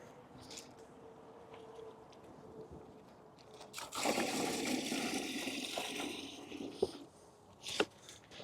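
Water splashes into a 2500-gallon fiberglass aquarium holding big 6-to-8-inch fish during acclimation, a few seconds of sustained gushing after quiet ambient noise, followed by a couple of sharp knocks.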